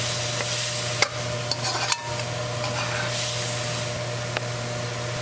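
Mushrooms frying in tomato sauce are stirred in a pan, with a steady sizzle and scraping stir strokes broken by a few sharp knocks around one and two seconds in.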